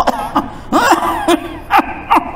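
A voice imitates a series of rough, throaty coughs, several short bursts spaced apart, loud and close.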